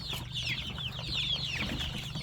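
Chickens cluck and chirp around a feeder, a busy chorus of close bird calls over a low steady hum.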